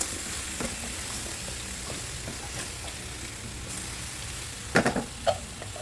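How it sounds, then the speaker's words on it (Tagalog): Squash and string beans with garlic sautéing in a pan, a continuous fizzing sizzle with occasional stirring scrapes and a few sharper clatters near the end, no talking. "Nagigisa muna natin."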